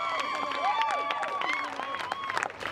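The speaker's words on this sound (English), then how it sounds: "Flanked by cheering and chanting supporters and family members" Supporters and family members cheer at the finish of a 5k run for the troops. A lively crowd claps and shouts, with a whistle-like tone sweeping above the steady applause close by.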